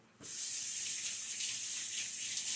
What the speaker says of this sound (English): Gonna rinse this off.